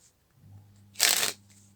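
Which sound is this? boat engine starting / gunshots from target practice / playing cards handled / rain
playing cards handled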